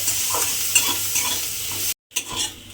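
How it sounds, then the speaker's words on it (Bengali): Chopped onion fries in hot oil in a pan for red spinach: a steady close sizzle with soft stirring, cut by a brief silence before the sizzle resumes. "পেঁয়াজটাকে একটু প্রথমে লাল করে ভেজে নিতে হবে"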